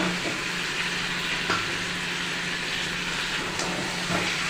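Potatoes added to a hot pan of sautéed masala, a steady close sizzle with soft stirring clatter throughout, no voices.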